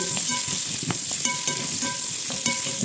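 Carrot and potato pieces fry in a pan for beef caldereta, giving a steady close sizzle broken by the clatter of stirring utensils, with no talking.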